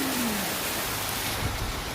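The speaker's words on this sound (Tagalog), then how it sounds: "Grabe, ang lakas ng ulan." Heavy rain pouring down in Japan, a dense, even roar of falling water that stays loud and unbroken throughout.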